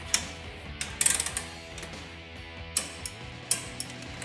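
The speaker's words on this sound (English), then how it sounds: "we'll go ahead and torque this one down. 55 foot-pounds with our 21 millimeter socket" A hand ratcheting with a 21 mm socket torques a steering bolt on a Jeep Wrangler JL with a heavy-duty steering kit: faint, irregular metallic clicks and ticks, close by and in short bursts, with no talking.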